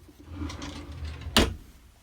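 A wooden drawer in a Sprinter van conversion opens or shuts with one sharp, close knock, preceded by soft shuffling and handling sounds.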